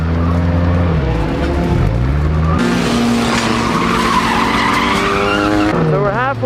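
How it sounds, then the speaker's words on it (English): A race car spins out during a night skid plate race, its tires squealing and skidding loudly in long wavering screeches over a roaring engine, close and continuous throughout. "I'm gonna spin out for fun"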